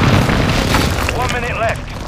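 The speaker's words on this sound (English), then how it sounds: "Precision airstrike inbound." Booming precision airstrike blasts rumble through a Call of Duty Modern Warfare 2 multiplayer match, loud and close, with a voice speaking over the explosions.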